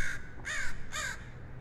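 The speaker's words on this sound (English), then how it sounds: "Okay, it was a crow." A crow caws three times in quick succession, harsh and clear, played as a stereo sound effect file over a faint background hiss.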